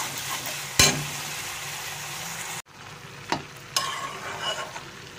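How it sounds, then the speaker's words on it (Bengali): Raw jackfruit stir-fried with spices in a pan, a steady close sizzle broken by a sharp utensil clank, a brief pause, then renewed sizzling with a few scraping strokes. "এঁচড় দিয়ে অল্প অল্প করে এঁচড় দিয়ে কষাতে থাকবো।"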